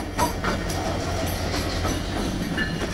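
A big train rolls slowly past a level crossing, its steady wheel rumble and faint clickety-clack continuous and close throughout.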